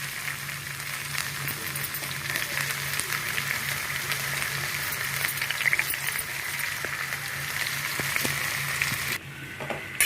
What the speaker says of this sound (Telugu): అన్ని ముక్కలు పిండేసేసుకొని ఇలా వేయించుకొని వేసుకోవాలి.